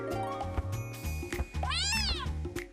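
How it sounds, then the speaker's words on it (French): A cartoon cat meows in a drawn-out, wailing cry with a sharp rising and falling sweep, loud and close, set against a busy animated soundtrack with background music. "Maintenant, t'as vu, il miaule!"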